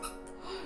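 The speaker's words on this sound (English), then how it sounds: "They make squeaky noises!" Short squeak from small squeaky toy items bought at GameStop, a single tonal chirp up close with no talking.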